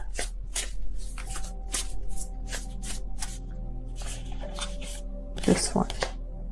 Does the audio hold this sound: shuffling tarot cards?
yes